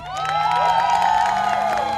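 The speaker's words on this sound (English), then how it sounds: "let's give them a big round of applause" An audience at a kindergarten and sixth-grade school promotional ceremony claps and cheers, with children's shouts and whoops rising over steady, fairly loud applause that continues throughout.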